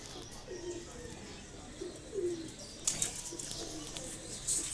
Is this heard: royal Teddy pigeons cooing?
yes